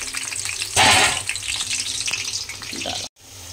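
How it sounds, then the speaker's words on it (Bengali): Sliced potatoes tossed with turmeric hit hot oil in a home kitchen, bursting into a loud sizzle that settles into steady frying crackle, then cuts off briefly near the end. "তেলটা মোটামুটি আমার মনে হয় গরম হয়ে গেছে, বেশি গরম হলে আবার ছিটকে যাবে সব, ওই জন্য আমি আলুটাকে ছেড়ে দিই।"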